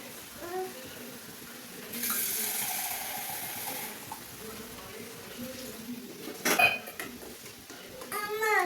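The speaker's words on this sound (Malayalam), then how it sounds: "അമ്മ വെള്ളം ഒഴിക്കട്ടെ ഒരു മിനിറ്റ്" A broad rush of water pours for about two seconds amid clinking pots and utensils, followed later by more clatter and brief running water.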